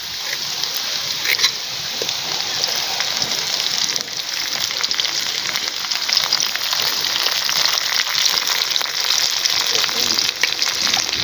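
Curry leaves crackle in hot oil, a loud, dense, steady frying hiss that carries on unbroken for the full stretch, close and bright.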